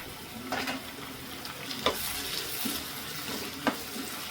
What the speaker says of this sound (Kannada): ಈಗ ಇದಕ್ಕೆ ನಾವು ಟೊಮೊಟೊನ ಆ್ಯಡ್ ಮಾಡ್ಕೊಳ್ಳೋಣ.